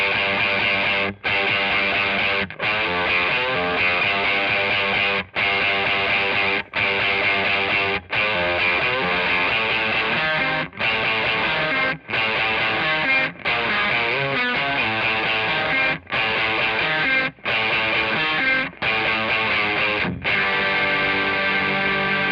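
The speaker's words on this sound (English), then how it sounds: "It is just a really raw, like tone bendery fuzz." Gritty electric guitar through a raw tone bender fuzz pedal plays continuous chords and riffs with brief gaps between phrases, loud and raw with a bright, buzzy edge.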